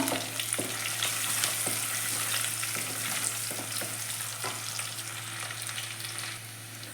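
Sliced garlic fries in a pan for a sardine curry cooked with Malabar tamarind, giving a steady close sizzle broken by scraping clicks as it is stirred, with no voices.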